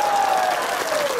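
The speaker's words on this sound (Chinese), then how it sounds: "同意就拍手，唔該。" A crowd at a political rally in Ipoh, Malaysia, breaks into brief, dense applause, a steady wash of clapping heard close and loud.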